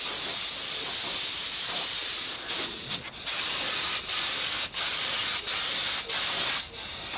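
Lacquer sprayed onto a wooden box of sena and pine, a continuous close hissing spray broken by several short pauses, with no talking.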